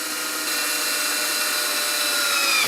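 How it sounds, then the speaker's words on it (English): A power drill bores into the metal bracket of a storm door closer, a steady, loud, close high-pitched whine that holds for under three seconds without talk. "So take your time when you're drilling."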